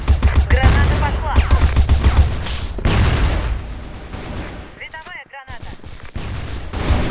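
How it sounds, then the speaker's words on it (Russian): Gunfire and a grenade blast in a video game, with bursts of rapid shots and heavy booms layered over fighting and voices, loud throughout. "Граната пошла."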